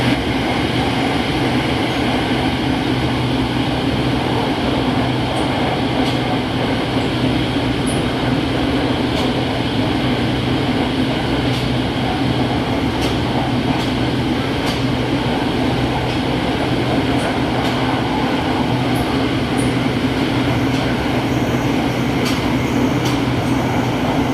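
An SRT Red Line electric train runs steadily from the Bangkok Central Station Krung Thep Aphiwat toward Rangsit, heard from inside with a constant loud rumble, hum and faint clicks throughout.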